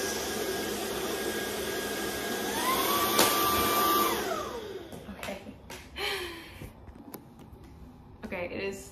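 A vacuum cleaner draws in a Bernese Mountain Dog's hair with a loud, steady whine that climbs and then drops as suction changes partway through, then gives way to bursts of airflow and rustling; a person talks over it.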